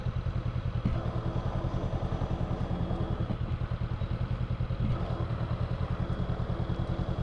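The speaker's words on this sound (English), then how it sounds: "It's actually not that easy to back up this heavier bike when the road is not even and it's dirt and rocks that are getting in the way of the tires" A Honda CB500X motorcycle idles with a steady, fairly quiet engine pulse while it is backed up over uneven dirt and rocks, with a few soft thuds from the terrain.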